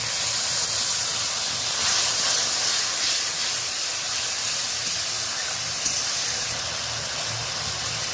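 A pan of ginger paste sizzles and hisses steadily as a little hot water is added, a continuous close steamy spray with no voices.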